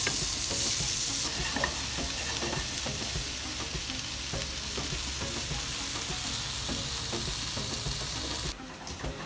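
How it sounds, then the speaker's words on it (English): Corn sizzles steadily in hot butter in a pan, a close, continuous frying hiss with occasional stirring scrapes. "gonna saute it with some butter and brown it really well"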